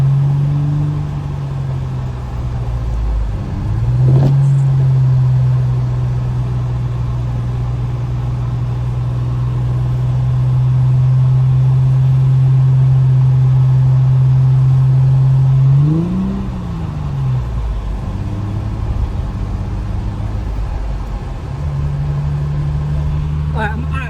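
Infiniti G35 coupe with a manual gearbox drifting slowly in a snowstorm, its engine droning steadily with a brief rev swell midway and another near the end, close and loud throughout.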